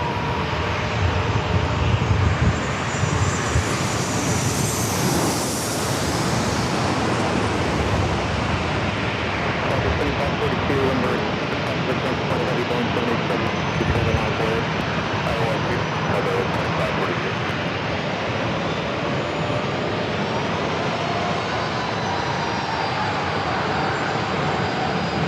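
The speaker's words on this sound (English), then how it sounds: "another Southwest 737 short funnel for 27" A Southwest Airlines Boeing 737-800 on short final for runway 27 at San Diego gives a steady, broad jet roar that swells around the middle and holds loud throughout, with wind noise mixed in.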